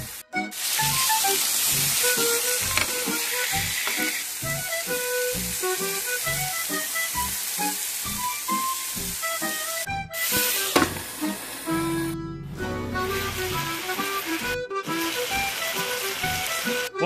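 Food frying in a pan on the stove while cooking a topping for Alfredo pizza, a steady loud sizzle running throughout with rhythmic stirring scrapes and a few brief pauses.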